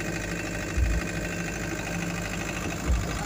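A 4-cylinder Mitsubishi 40 kVA generator engine runs with a steady, droning mechanical hum, loud and continuous, with a couple of low thumps.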